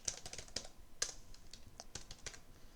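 Close, quiet clicking of computer keyboard keys as someone types into an Excel spreadsheet, irregular keystrokes with a few sharper taps, no talking.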